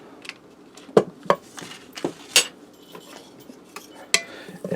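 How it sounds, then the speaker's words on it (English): Butter being stirred in a hot pressure cooker set to saute, with intermittent clanks and scrapes of the utensil against the metal pot, several sharp knocks spaced irregularly, close and clear with no talking. "I'm going to stir that around and let that melt for a second"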